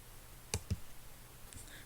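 Two quick, crisp mouse clicks close to the mic, then a few fainter clicks, in a quiet room.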